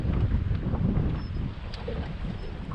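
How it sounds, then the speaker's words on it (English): Strong wind on a lake buffets the microphone from a bass fishing boat, a loud continuous low rumble with gusty swells and no voices. "the wind is blowing so hard I can't hardly even hold myself with the trolling motor"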